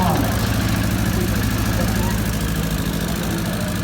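A 1995 Toyota Camry with an automatic transmission runs at a public auto auction, its engine giving a steady, close idling hum and rumble that holds throughout under a busy, noisy background.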